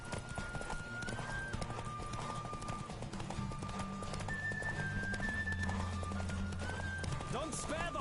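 A horse gallops in The Witcher 3 video game, with fast, steady clip-clop hoofbeats throughout, a neigh near the end, and music playing underneath.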